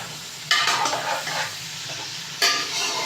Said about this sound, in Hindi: अच्छी तरह हमने इसको भून लेना, फ्राई कर लेंगे चिकन को।